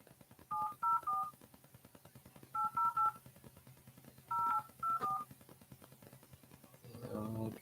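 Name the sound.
telephone number being dialed, DTMF tones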